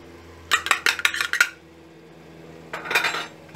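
Beef biryani being mixed in a metal pot after ground garam masala goes in, with a quick run of sharp clinks and scrapes from a spoon against the pot, a pause, then another short burst of stirring.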